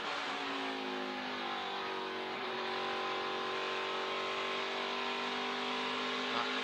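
A NASCAR Craftsman Truck Series engine on a qualifying lap at Phoenix gives a faint, sustained whining drone whose pitch slides gradually downward, heard at a distance and with no break.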